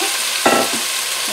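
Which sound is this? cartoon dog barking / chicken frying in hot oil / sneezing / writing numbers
chicken frying in hot oil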